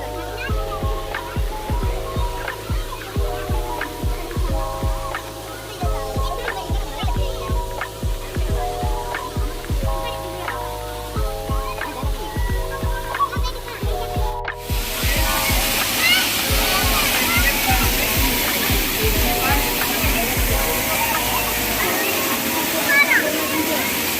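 Agasthiyar Falls at Papanasam sends down a heavy, continuous roar of falling water that swells in loud and close halfway through, after a stretch where voices carry over softer background noise.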